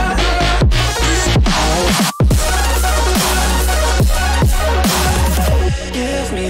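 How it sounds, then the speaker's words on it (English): Spinning, hard-panned hi-hats ride over a dense, loud electronic drop with heavy bass and swooping synth notes, playing continuously with one brief cut near the middle. "Just some spinning hi-hats just like that."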